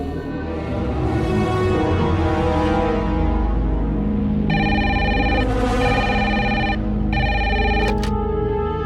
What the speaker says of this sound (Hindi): आपने फार्म हाउस के लैंडलाइन पे फोन लगाया है